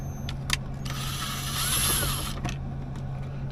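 A power screwdriver backing a Phillips screw out of an Infiniti Q50/Q60 car interior during a cluster install, a short whirring mechanical buzz lasting about a second and a half, with faint clicks before and after.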